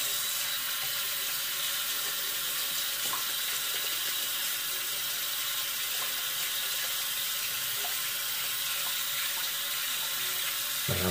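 Tap water runs steadily into a sink while a shaving brush is rinsed, a soft continuous splash close by with faint handling noises and no voices.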